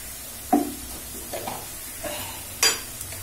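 Spices for Katla fish kalia, with salt, turmeric and ginger paste, being sautéed in a pan: a faint background sizzle broken by a few scattered spoon scrapes and knocks against the pan.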